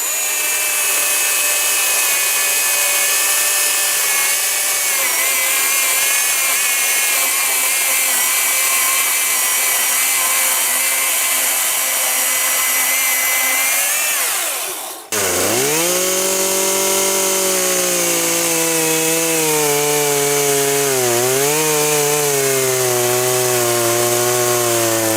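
A Ryobi cordless chainsaw runs steadily at high pitch, then bogs down audibly as it bites into wood, its motor tone dropping and wavering through a continuous, loud cut.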